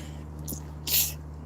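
A short, sharp sneeze bursts out once after a faint preceding catch of breath, over a quiet background hum.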